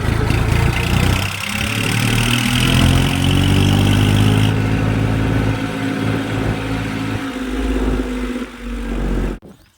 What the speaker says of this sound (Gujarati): આપણો ટ્રેક્ટર થઈ ગયો તૈયાર જવા માટે